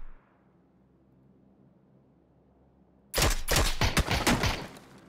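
Gunfire in the battle-royale game PUBG, a sudden loud burst of rapid shots after three seconds of near silence, several sharp cracks in quick succession ringing out close by.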